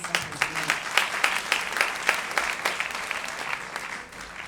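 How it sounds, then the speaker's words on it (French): Audience at a Congolese music event in Montreal breaks into steady, dense applause, individual claps blurring into a continuous wash at moderate distance with no voices over it. "Applaudissez encore une fois pour vous"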